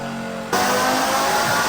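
A tuned Lamborghini of about 1630 horsepower roars on a dyno, its engine surging sharply into a loud, sustained, high-revving blare that fills the space.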